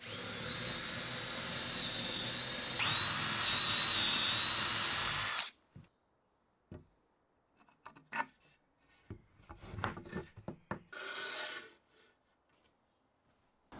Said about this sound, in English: then I can get a hole drilled through and a bolt put in place.